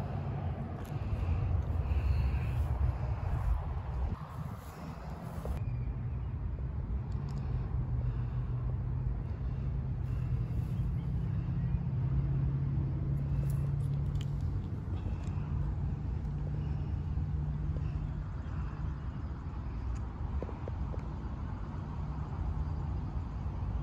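Steady wind buffets the microphone with a low, continuous rumble, broken by occasional gusts and distant traffic-like noise.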